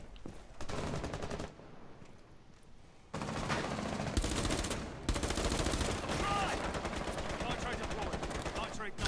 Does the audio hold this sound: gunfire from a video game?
yes